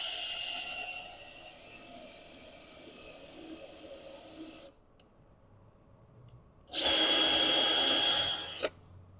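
Cordless power drill driving screws into the wood of a raised planter bed, one long whirring run, a pause, then a second shorter, louder burst that stops abruptly.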